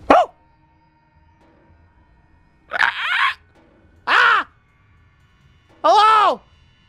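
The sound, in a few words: person imitating a dog bark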